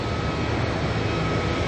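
ATR turboprop airliner departing Auckland Airport for Nelson, a short burst of dense, steady engine drone with a low hum and a thin high whine, fairly close and loud.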